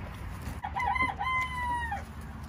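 A Polish rooster crows once nearby, a drawn-out rising and falling call over a low background hum.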